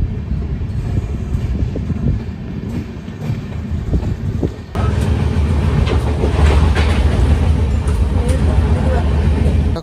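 A passenger train bound for Bolpur rolls along the rails with a steady low rumble that swells louder about halfway through, continuous throughout the whole stretch, with faint voices mixed in.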